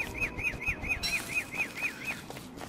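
A bird in Don't Starve Together chirps in a quick, regular series of about ten bright tweets, close and clear over a soft game background.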